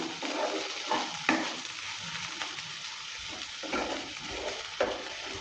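Okra and red lentils fry in a pan, a close steady sizzle broken by several scraping stirs of a spatula at irregular intervals, with no voices.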